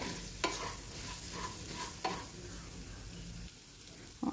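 Cumin, fennel, coriander and chaat masala frying for Shegaon kachori filling, heard as a quiet sizzle under repeated spatula strokes and scrapes, with a louder knock near the end.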